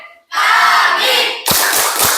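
A class of pupils standing and doing the tepuk anak soleh clapping chant, loud group voices chanting together, followed by a few sharp, rhythmic claps.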